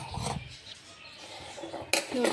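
A kitchen vessel set out for straining pineapple juice is handled. It gives faint, scattered clinks and knocks and ends with a sharper clatter, heard close in a quiet home kitchen.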